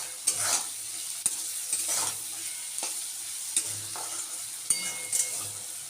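Pumpkin with salt and turmeric fries in a pan, a close, moderate sizzle punctuated by repeated sharp scrapes and knocks of a spatula stirring at irregular intervals.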